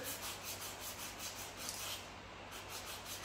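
Hand sanding of curb rash on a 2019 Nissan Maxima SL wheel with 80 grit sandpaper under medium pressure: a steady, soft abrasive rubbing that continues without pause, close by and quiet, with no voices.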